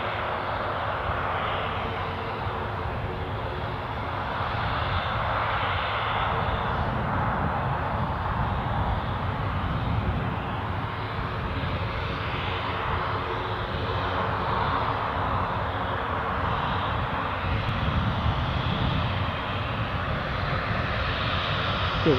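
Ryanair airliner arriving at Newcastle Airport, a continuous airplane engine roar that stays steady and moderately loud, with gentle swells of rushing noise and no voices.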